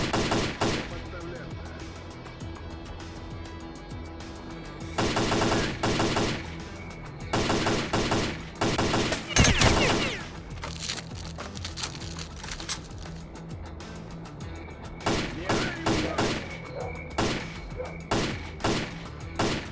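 Gunfire in S.T.A.L.K.E.R.: Call of Pripyat, with repeated bursts of automatic fire and single shots in clusters over several seconds, fairly close, with quieter gaps between volleys.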